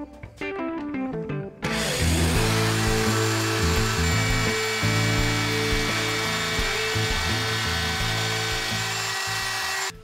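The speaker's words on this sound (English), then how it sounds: "So I'm gonna route a slot midway and I'll make it straight there." A power router cuts a slot in wood for a folding step stool, roaring loudly and steadily for about eight seconds after a few shorter knocking and tonal sounds at the start.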